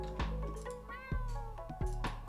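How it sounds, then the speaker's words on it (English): Creatures in the video game Fractal Block World make a series of short, close cat-like meows, about four distinct calls in quick succession. "I don't know why they make meowing noises."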